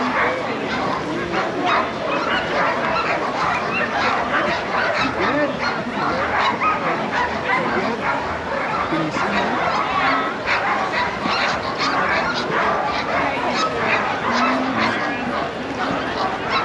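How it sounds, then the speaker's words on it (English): Iditarod sled dogs in harness at the start line of the 2023 race, a dense chorus of excited barks, yips and whines from many dogs at once, loud and continuous, with outdoor crowd noise and voices mixed in. "those are some happy sled dogs right there"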